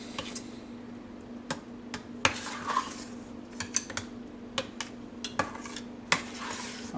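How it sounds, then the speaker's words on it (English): Baked beans being stirred in a pot with a spoon, a quiet run of scattered clinks and taps on cookware, near and fairly soft, with no talk. "Stir that all together and we're going to have some delicious baked beans"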